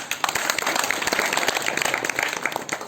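An audience claps at a winter camp seminar, a dense, steady patter of many hands lasting throughout with a faint voice underneath.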